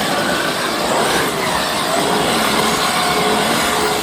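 A Traxxas XRT RC truck revs at full throttle in icy snow, its electric motor giving a loud, continuous whine and roar that holds steady throughout with no pauses or talk.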